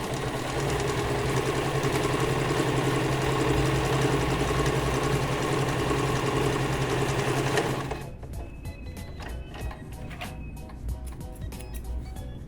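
A sewing machine runs steadily as it stitches a seam, giving a fast, even mechanical whir for about eight seconds before it stops, after which faint handling clicks follow.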